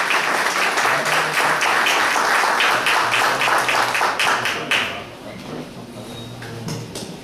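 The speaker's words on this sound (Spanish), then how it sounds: "Un aplauso para Nápoles." Audience applauding a speaker at a political gathering in Chicago, a dense burst of clapping from a crowd that holds strong for several seconds, then thins and fades, with voices murmuring beneath.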